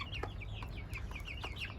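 An old Indian hen, four or five years of age and tending her chicks in a coop, gives faint, low repeated clucks as high, quick chick peeps chirp steadily over them.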